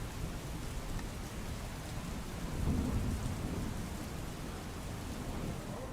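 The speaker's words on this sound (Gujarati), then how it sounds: "જૂનાગઢ જિલ્લામાં મોટા ભાગના વિસ્તારોમાં વરસાદ વરસી રહ્યો છે" Heavy monsoon rain pouring in Junagadh district, a steady dense hiss of downpour with a low rumble swelling briefly midway, faint and continuous with no voices.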